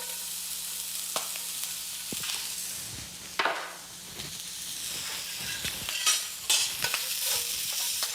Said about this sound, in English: I'm gonna add another ½ tablespoon of oil to the pan and my shallots, 2 tablespoon shallots.